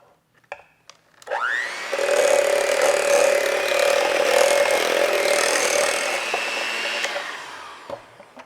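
Electric mixer on low speed blending whipped cream in a bowl for a key lime pie, a steady whirring motor drone that starts after a few clicks and runs for several seconds before winding down.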